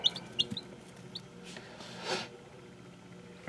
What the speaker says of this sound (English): we're back with the little chicks in their little nursery tub